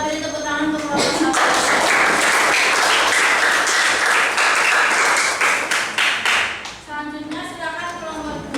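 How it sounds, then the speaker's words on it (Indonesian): An audience claps loudly for group 1 after a classroom presentation, a dense burst of applause lasting several seconds and then tapering off, with talking before and after. "Kita beri tepuk tangan untuk kelompok 1."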